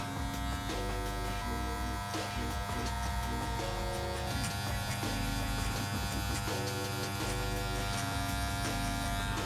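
Electric hair clippers fitted with a one guard, lever set halfway, buzz steadily and close up while cutting a mid skin drop fade, a continuous motor drone with small shifts in tone as the blade moves through hair.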